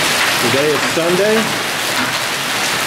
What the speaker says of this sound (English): we have hail like you wouldn't believe it. It's just coming down on my patio.